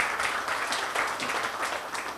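Audience at a live stage show giving a brief round of applause, a steady wash of many hands clapping, fairly quiet and distant.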